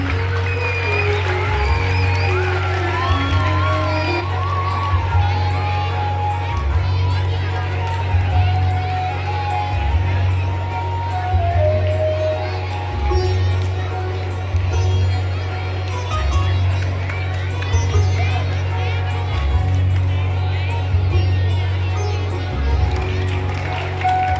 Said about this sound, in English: Clap for your new Education Minister.